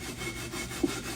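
Cast iron cookware scrubbed free of rust, making a brief, close, steady abrasive rasp of back-and-forth strokes, with one slightly louder scrape near the end.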